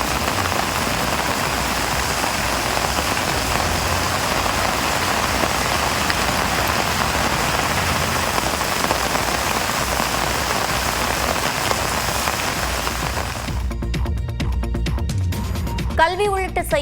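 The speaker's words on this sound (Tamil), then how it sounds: "1 மணி நேரம் மழை பொழிந்தது" Steady heavy rain falls on surfaces for a long stretch in Theni after strong winds, a dense continuous hiss that ends in a brief noisy patch.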